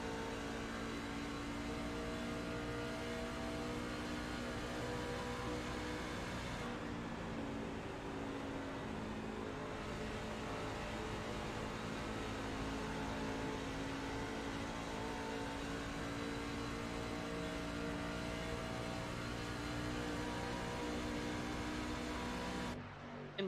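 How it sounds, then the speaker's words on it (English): Onboard race car engine at Charlotte, a continuous loud drone with the pitch easing and building as the driver lifts through the turns, steady throughout with no voices. "You can hear him lifting in the turns."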